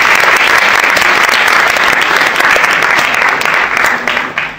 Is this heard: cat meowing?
no